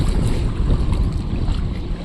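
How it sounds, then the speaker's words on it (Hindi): Strong wind on the Godavari river during stormy weather drives waves against a fishing boat, a loud, constant rushing roar mixed with heavy wind buffeting on the microphone, with no voices. "देखिए गाइस कितना पानी हवा से मार रहा है"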